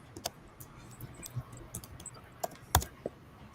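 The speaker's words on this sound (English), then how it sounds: "He's typing." Scattered keystrokes clatter on a computer keyboard, quiet clicks in an irregular rhythm with a few sharper taps, close by in a quiet room.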